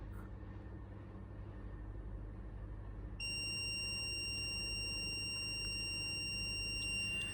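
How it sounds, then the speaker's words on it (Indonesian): Buzzer on an MQ5 gas sensor circuit, triggered along with a red LED when gas is detected, switches on partway through and holds a steady, shrill electronic tone over a low background hum. "LED berwarna merah dan juga buzzer menyala"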